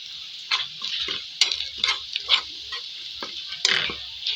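Green chillies and crushed red chilli sizzle in oil in a pan as a spoon stirs them, with scraping bursts and clinks of metal against the pan in an irregular rhythm, close and clear.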